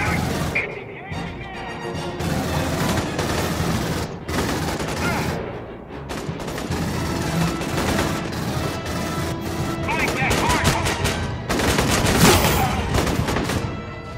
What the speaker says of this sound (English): this battle rifle is way more effective against guys than it is against xenomorphs